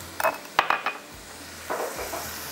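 Qeema browning in a pot with spices, yogurt and green chillies: a soft sizzle under sharp clinks and scrapes of a spoon stirring against the metal pot.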